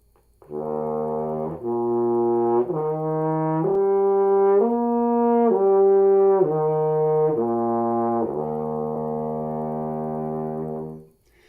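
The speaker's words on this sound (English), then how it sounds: "I'm going to actually slur up the harmonics" A brass instrument starts on a low pedal note and slurs smoothly up through a series of stepped harmonics, then back down, in one sustained breath.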